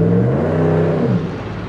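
A Dodge Ram pickup truck with a 5.7 V8 Hemi pulls hard in second gear, a loud deep engine drone with rising harmonics that eases off near the end.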